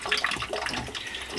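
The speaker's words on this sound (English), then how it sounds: "And we'll open the drain valve here. Start draining water out." Water draining from the drain valve of a 6-gallon water heater aboard a 1936 wooden boat, a steady close hiss and splash with no talk over it.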